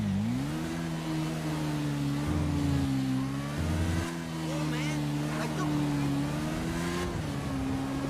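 A motorbike engine droning steadily while riding through traffic in GTA 5, a continuous mid-pitched hum that rises and dips slightly with throttle, under light in-game background noise.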